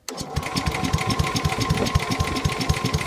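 An engine idles with a rapid, uneven chugging knock, close and steady for a few seconds, with no talking over it.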